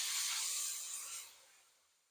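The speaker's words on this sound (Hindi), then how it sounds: "थोड़ा सा फ्राई करेंगे।" Garlic-ginger paste sizzles in a hot cooking pan with a steady bright hiss that fades gradually as the frying settles, close and alone without any talking.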